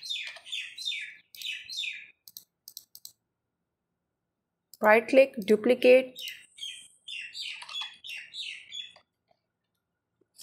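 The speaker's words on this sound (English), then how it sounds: "So there are a lot of birds outside my window." Birds chirp outside a window in quick, repeated high tweets, a fairly clear series at the start and again later, with a person speaking in between.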